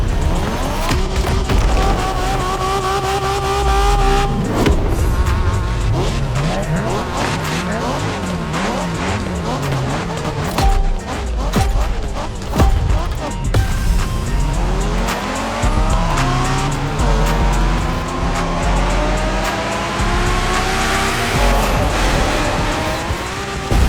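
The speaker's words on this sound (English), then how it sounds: "We're going for some proper Japanese street racing." Racing cars in The Crew Motorfest on a Japanese street race, engines revving and shifting loudly with tires squealing through turns, continuous and close, music and effects layered throughout.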